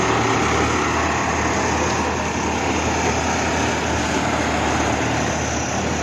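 A paddy threshing and fan machine driven by a Sonalika Tiger tractor runs with a loud, steady mechanical drone and whir, constant from start to finish, close by and without talk.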